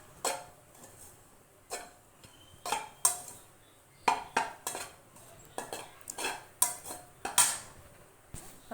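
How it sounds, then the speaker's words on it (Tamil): Lentils being stirred and roasted in ghee in a kadai, a spoon clinking and scraping against the metal pan in sharp, irregular taps at steady intervals, close and fairly quiet, with no talking. "பருப்பை வறுத்து எடுத்துகிட்டு அந்த இருந்த நெய்யிலே போட்டு நல்லா அப்படி ரோஸ்ட் பண்ணிக்கிடுவோம்"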